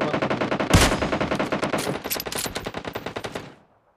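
Loud, fast automatic gunfire in a shooting video game, a long continuous burst of rapid shots that ends abruptly and gives way to silence.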